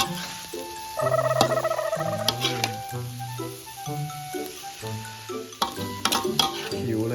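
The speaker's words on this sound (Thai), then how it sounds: "ผัดให้เข้ากัน" Food being stir-fried in a pan with repeated scraping strokes and a steady sizzle close by, while music plays throughout at a similar level.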